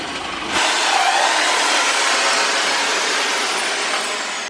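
A power drill bores into a door frame during a house renovation, starting abruptly and running as a loud, steady high-pitched whine for about four seconds before stopping.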